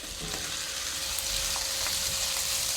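Chayote dropped into a hot pan of pancit habhab sizzles and fries steadily, a continuous close crackle with faint stirring clinks and no talking.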